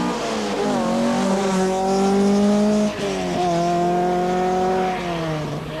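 An Opel Ascona 400 Group B rally car at the 1985 Hellendoorn rally roars past close by, its engine holding a high, strained note that dips briefly as the revs drop, then climbs again, loud and continuous with no voices.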